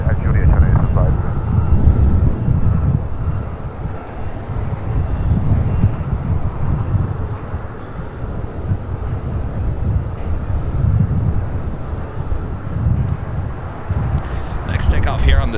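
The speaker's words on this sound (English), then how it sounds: "Takeoff here on the south side is American Airlines Flight 2 heading to JFK. It's an A321." American Airlines A321 airliner taking off from the south side of LAX, a loud, steady low engine roar that holds for the whole stretch, with wind buffeting the microphone and a brief higher hiss near the end.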